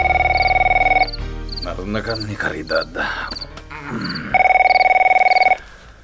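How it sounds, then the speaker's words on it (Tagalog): A telephone rings in a married couple's bedroom during a radio drama: a steady, repeating electronic ring at the start and again near the end, with voices and background music in between. "gapu iti panaguni ti telepono iti siledda nga agasawa"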